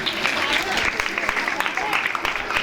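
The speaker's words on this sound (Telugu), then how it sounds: "మీ చప్పట్లు ఎంతసేపు అయినా గట్టిగా కొట్టండి." An audience at a church Christmas event claps steadily for children performing a dance, a dense continuous patter of many hands, while a voice talks over the applause.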